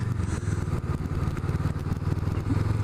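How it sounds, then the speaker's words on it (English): A 2017 Honda CMX500 Rebel motorcycle running through a 2-into-1 exhaust, a close, loud, steady throb with a barking, pulsing rhythm at idle. "this bike as well sounds really, really good"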